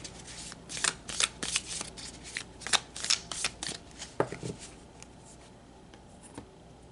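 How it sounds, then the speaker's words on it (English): Tarot cards are shuffled by hand in a quiet room, a quick series of crisp riffling and slapping bursts that tapers off into near silence. "Let's pull some tarot for you guys."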